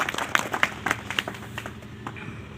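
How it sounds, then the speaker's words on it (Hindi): Audience applause for a poet at a Marwari comic poetry recitation: scattered, moderately loud claps from a modest crowd, with a few sharper individual claps early on that trail off into softer, thinning clapping. "तालियां दिया करो कवि के लिए,"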